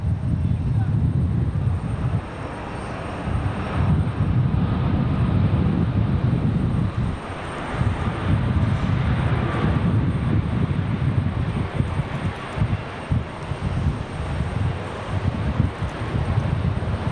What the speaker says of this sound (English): Southwest struggling with that wind.